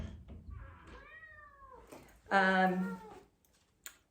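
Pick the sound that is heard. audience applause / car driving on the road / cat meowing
cat meowing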